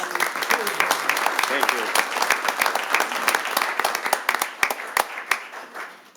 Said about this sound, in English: Can we have one more big round of applause for everybody?